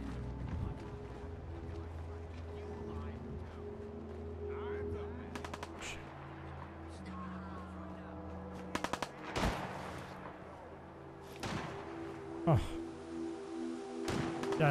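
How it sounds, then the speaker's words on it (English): Gunfire in the video game Fallout 4, sharp bursts of shots at a few points over game ambience and background music, with loud single cracks standing out. "Go, go, go, go towards the gunshots."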